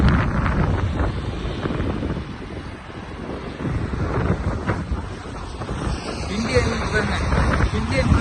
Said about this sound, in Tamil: எப்படி அடிக்குது பாருங்க, பயங்கர விண்டுங்க